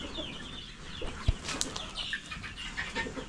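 Chickens around a brooding hen on a farm, with a short wing flap and scattered soft clucks and rustling close by, no talking.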